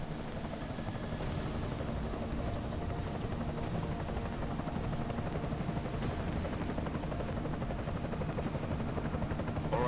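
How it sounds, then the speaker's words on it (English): A helicopter in the video game Deus Ex: Mankind Divided gives off a constant, faint, rushing rotor drone that lasts the whole stretch without a break and with no one speaking. "Enemy helo sighted."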